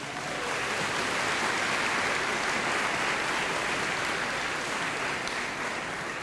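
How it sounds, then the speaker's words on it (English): Sustained audience applause fills a school music concert hall, a dense steady wash of many hands clapping at full volume from start to finish, with no talking over it. "Give her a round of applause, please."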